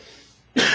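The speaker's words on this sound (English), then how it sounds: "Excuse that cough." A single sharp cough bursts out abruptly, loud and close, right after a stretch of quiet room tone in a lecture on proportions.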